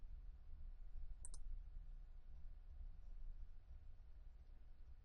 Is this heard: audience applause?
no